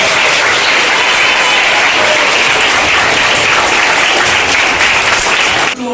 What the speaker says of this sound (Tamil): சரோஜினி பிரியா ஆசிரியர் அவர்களுக்கு ஒரு பலத்த கரவொலி